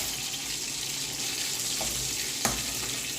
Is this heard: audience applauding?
no